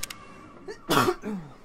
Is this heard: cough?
yes